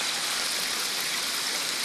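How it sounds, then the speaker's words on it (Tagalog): Strong floodwater rushes in a dense, continuous broadband roar that stays loud and unbroken throughout, close by, with no other sounds standing out. "so kusog ang baha diri mga kaidol"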